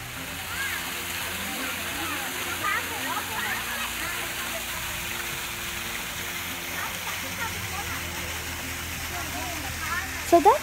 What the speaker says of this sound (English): And that's the waterfall at the entrance.